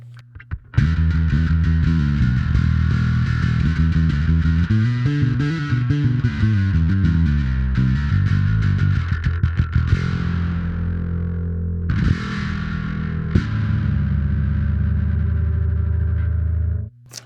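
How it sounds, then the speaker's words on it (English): Distorted electric guitar through an effects pedal, sustained gritty chords ringing out, then a pause and another strummed chord that fades away. "So again, a little bit of distortion."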